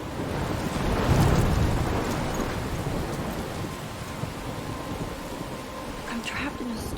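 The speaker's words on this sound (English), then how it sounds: "I'm trapped in a storm?" A heavy thunderstorm in the Life is Strange Remastered video game: dense rain pours continuously while a deep rumble of thunder swells early and fades, with a brief crackle near the end.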